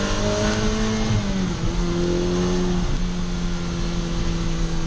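Engine of a 2023 Ferrari F8 Spider screaming under hard acceleration, loud and close, with sharp gear changes cutting the rising pitch into steps and no voices over it.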